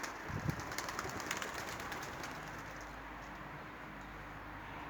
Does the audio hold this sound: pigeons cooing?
yes